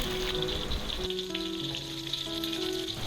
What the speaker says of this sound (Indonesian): kita goreng cabai rawit merah yang udah kita belah-belah agar tidak meletus saat